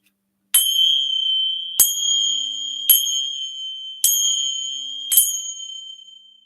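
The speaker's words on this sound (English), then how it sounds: "cut through this energy with the chimes" Five clear metallic chime strikes at a steady, unhurried pace, each bright tone ringing and sustaining into the next, alone in a quiet room.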